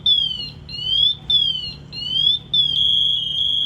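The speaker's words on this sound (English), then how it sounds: "It's going to keep getting louder and louder, trying to prompt me to move." A firefighter's motion alarm at full alarm emits loud, piercing electronic chirps that sweep up in repeated bursts, then settle into one continuous high tone.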